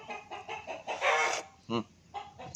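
A chicken clucks in a quick series of short, nasal bursts close by, with one louder, longer squawk in the middle and brief gaps between calls.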